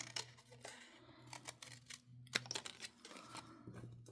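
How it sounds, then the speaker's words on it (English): Large scissors cut through paper for a craft journal page, giving a series of soft, close snips and crisp rustles over a low steady hum, with no talking. "So I'm going to get my bigger scissors here because I want some of that peachy color to show."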